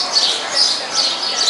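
High, busy bird chirping and twittering in repeated bursts, fairly close and loud, with no voices, from free-flying birds at the Central Park Zoo in New York.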